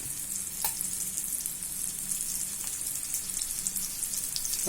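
Eggplant slices frying in a pan over medium heat, a steady, dense sizzle with soft crackles and pops running continuously throughout, with no voices.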